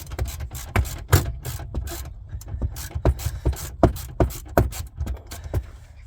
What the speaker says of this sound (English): So we do the same again this side, undo the 2 bolts.